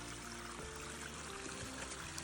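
Water runs and burbles continuously, like a small stream flowing nearby. The noise is steady and fills the whole moment.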